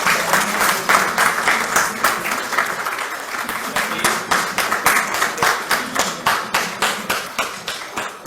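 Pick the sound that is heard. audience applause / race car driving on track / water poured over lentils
audience applause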